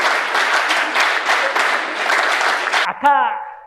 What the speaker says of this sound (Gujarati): બધા માટે જોરદાર તાળીઓ